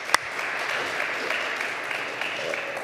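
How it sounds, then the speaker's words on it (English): Audience applause at a research university progress review conference in Gdańsk, a steady even wash of clapping over the whole stretch, moderately distant, with no voices over it. "Applause."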